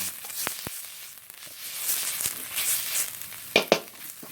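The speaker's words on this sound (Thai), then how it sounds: "ตั้งกระทะให้ร้อน ใส่น้ำมันนิดหน่อย เอาเครื่องเทศ" Soft sizzling of spices, garlic and lemongrass frying in a little hot oil, with a few sharp clinks and scrapes of a utensil against the pan.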